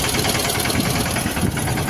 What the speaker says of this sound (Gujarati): હા ભગત ટ્રેક્ટર રાખે હવે